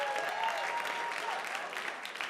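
A comedy club audience in New York claps their hands together, a dense, even patter of many hands at moderate distance, with faint crowd voices underneath.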